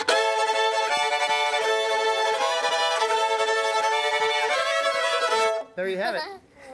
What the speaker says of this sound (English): Now here's the sound of 3 fiddles.